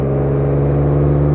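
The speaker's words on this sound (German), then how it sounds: "Aber Motor hört sich ganz gesund und ganz sauber an." Steady idle of a 1954 Jaguar XK 120 OTS roadster engine, a smooth continuous low hum with even tone, close and fairly loud, with no voices over it.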